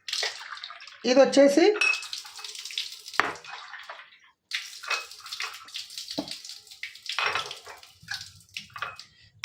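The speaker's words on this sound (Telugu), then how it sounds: "ఫస్ట్ ఒకసారి నేను మిమ్మల్ని చూపిస్తాను ఒక్కొక్క వాటర్ నేను నింపి" Water runs from a tap into a container while a glass or vessel clinks against hard surfaces, bursts of splashing and gurgling coming and going close by, with someone speaking briefly.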